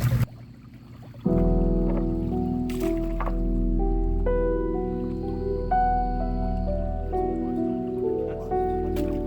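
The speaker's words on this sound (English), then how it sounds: "just getting in here with the yabby pump. Getting the sluice up to speed." Yabby pump and gold sluice working in creek water, giving a wet sloshing, gurgling flow that starts abruptly and churns on steadily close by, with a few splashy bursts and no talking.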